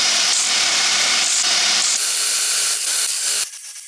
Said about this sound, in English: We're going to take those out on the surface grinder